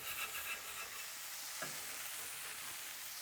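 A metal spatula scrapes a shallot burger patty on a hot griddle amid steady sizzling and frying, with one brief scraping stroke standing out in the middle, fairly faint and without talk.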